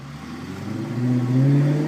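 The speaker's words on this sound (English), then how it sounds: "This thing echoes in between buildings. Well, you can tell. I mean, It's an F1 exhaust." A Maserati GranTurismo S MC Sportline with an F1-style sports exhaust revs in a steady, rising drone that grows louder and echoes between buildings in a city street. No voice is heard.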